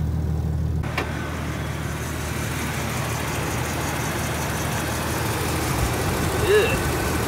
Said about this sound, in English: Sounds like I've got a slight exhaust leak somewhere.